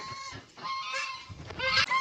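Farm ducks calling in a loud, continuous cluster of honking quacks, close by, overlapping one another with no pauses.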